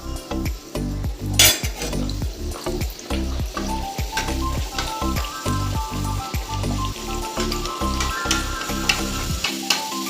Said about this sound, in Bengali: এখন মানে এখনো ভাজাভুজি চলছে